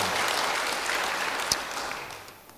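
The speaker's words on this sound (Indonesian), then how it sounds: "Beri tepuk tangan bagi dia." Congregation applause during a church service, a fairly loud wash of many clapping hands that holds steady, then tapers off near the end, with one sharp knock partway through.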